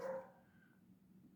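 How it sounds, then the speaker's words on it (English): A dog in a neighbor's backyard gives one short bark in the distance, faint, followed by low background rumble. "If you hear barking in the background, that's the neighbor's dog, their backyard."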